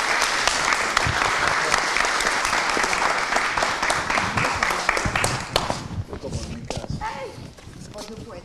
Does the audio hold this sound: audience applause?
yes